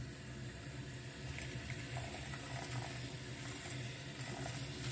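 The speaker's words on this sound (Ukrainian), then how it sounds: "висипаю сюди пшоно і заливаю окропом" Boiling water pours over millet in a bowl, a steady close wash of flowing and splashing liquid running without pause and without talk.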